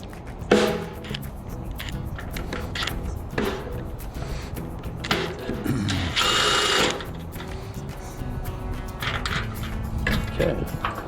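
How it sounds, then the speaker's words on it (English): Screws are driven out of a gate lock to free the rim cylinder, with bursts of buzzing power-driver whir and ratcheting clicks, brief metallic handling noises between them. "Take these screws out to get to the rim cylinder out"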